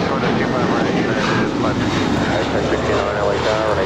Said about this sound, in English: the plane that just came in before the Lufthansa Queen on the north side is another Delta 767 from JFK